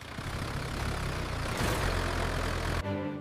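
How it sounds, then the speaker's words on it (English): An animated farm tractor engine runs with a steady, loud, low idling rumble for about three seconds before cutting abruptly to a quieter hum. "We need the tractor."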